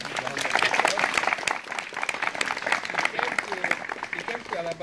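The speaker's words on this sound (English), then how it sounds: "so please give her a big round of applause." Audience applause at a Japanese fall festival in Huntsville, Alabama, welcoming a woman introduced for a cultural program: moderate, continuous clapping from a crowd, with voices chattering through it.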